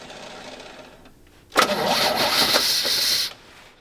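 An old GMC truck engine with a vacuum leak cranks briefly, then catches and roars loudly for under two seconds before cutting back down, with no one talking.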